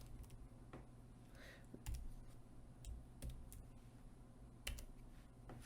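Quiet typing on a computer keyboard, a scattered run of soft individual key clicks with a few sharper taps, faint and close, with no talking over it.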